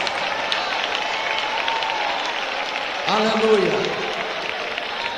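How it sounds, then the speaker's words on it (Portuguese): A church congregation claps hands in a steady continuous patter, with a voice calling out over the clapping near the end. "Batam palmas e glorifiquem a Jesus."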